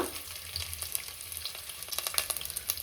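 Ginger, garlic, cinnamon and cloves frying in oil in a pan, a steady bright sizzle with crackling pops that grow busier toward the end, close and alone with no voices.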